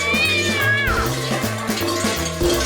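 A cat meows in a rising, drawn-out wail over a loud musical backing with a bouncy bassline.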